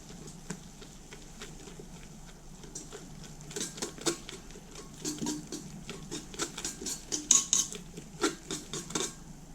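Soft butter being mixed into a bowl of eggs, sugar and starter dough for sweet poppy seed rolls, with a steady run of light clinking and wet pattering strokes, close and moderately loud, with no voices.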